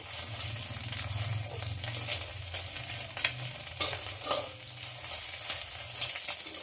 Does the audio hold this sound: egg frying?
yes